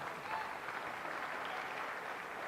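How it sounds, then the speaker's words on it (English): A light smattering of applause from a cricket crowd below the commentary box at a women's T20 match, Yorkshire v Essex, steady and moderately soft throughout. "A smattering of applause from beneath us here in the comms box."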